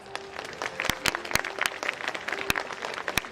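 Audience applause at an award ceremony for the Scientists of the Year, a dense patter of many hands clapping steadily with a few sharp, louder claps standing out.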